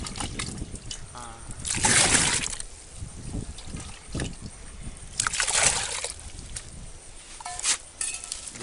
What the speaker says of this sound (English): You take water, pour more water into the bucket as it is.